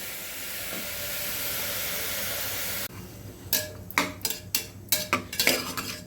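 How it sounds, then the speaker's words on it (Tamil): Tomatoes, green chillies and garlic tossed into a hot pan for chutney, with a steady sizzling hiss that cuts off, then a run of close, sharp utensil scrapes and clinks against the pan. "இதை கொஞ்சமாக வதக்கி விட்டுக்கலாங்க."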